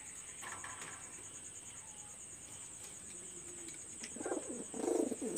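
Pakistani high-flyer pigeons kept for flying in a Khulna loft coo softly now and then, growing louder toward the end, over a constant high-pitched insect whine.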